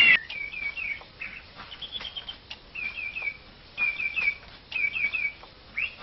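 Small birds chirp outdoors among trees and rocks, bright short tweets in scattered bursts with soft wing flutters, fairly clear against a quiet background.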